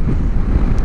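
Wind buffets the microphone with a low, rumbling roar, loud and close, brief gusting with no other sounds.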